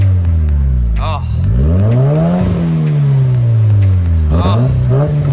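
A Nissan Silvia S14 with a swapped Japanese-market engine, heard from outside the car, revving hard with rising and falling sweeps of engine pitch. Loud and close, with people's excited voices reacting over it.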